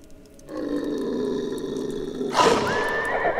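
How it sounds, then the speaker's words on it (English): Horses neigh and whinny outside, spooked by a prowling wolverine in the 1858 frontier game Sang-Froid: Tales of Werewolves, a sustained strained cry followed by a louder, sharper whinny with a rising squeal. "Sounds like a wolverine's outside spooking our horses."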